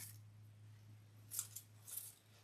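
Scissors snip flowers for a watermelon floral wreath, two crisp, close cuts a moment apart over a faint steady hum, with no voices.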